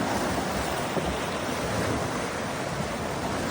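Ocean waves crash steadily on a shore during a hike, a loud continuous roar of surf with no pauses.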